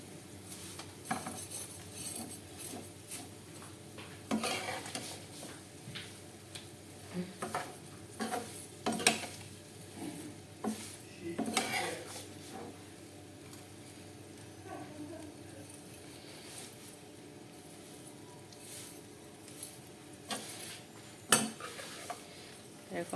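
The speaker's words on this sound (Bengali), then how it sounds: "আগে ভাজি করবো সেমাইটা" Vermicelli (semai) frying in ghee with raisins in a pan, mostly spoon and pot clatter from stirring over a faint sizzle, with irregular knocks and scrapes spread across a fairly quiet stretch.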